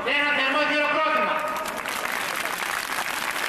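Applause from a large crowd at an outdoor political rally against the Schengen treaty in Athens, a dense, steady clatter of clapping that starts under a voice and then carries on alone, loud and continuous.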